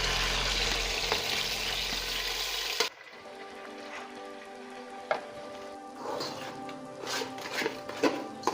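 Semolina fries in melted sugar that has turned light brown, for makhandi halwa. A loud, dense sizzle fills the first few seconds, then drops to a quieter crackle with scattered stirring scrapes and pops.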